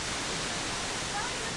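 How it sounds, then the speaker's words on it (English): Victoria Falls in Zimbabwe sends up a thunderous, unbroken roar, a dense wash of falling water that stays level and close throughout. "even the thunderous roar"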